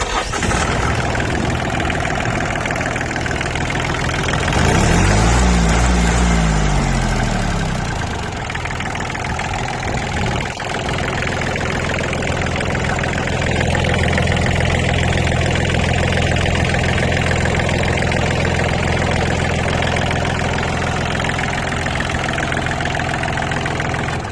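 A Yanmar 35 hp TLX diesel tractor engine idles with a steady chugging rumble, revving up briefly then settling back into a continuous loud run.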